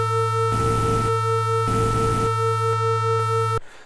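A steady Sonicware Liven XFM synthesizer drone with strong harmonics, with bursts of hissing noise blended in and out, ending with an abrupt cutoff.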